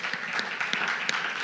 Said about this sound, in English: I would like to express my thanks to all the speakers, and I think they deserve applause from you